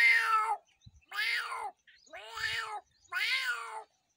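A man imitates a cat yowling, four drawn-out meowing cries with short pauses between them, each rising and then falling, close and clear with no other sounds.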